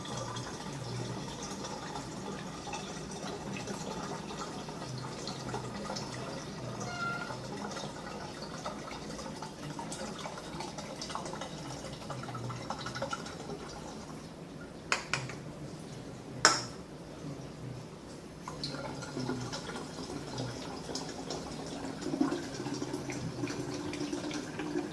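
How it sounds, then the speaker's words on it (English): Water pours steadily into a container with a continuous trickling fill, interrupted by a few sharp clinks and knocks midway. "Put our water in."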